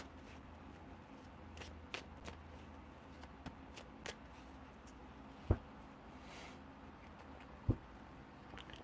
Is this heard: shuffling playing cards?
yes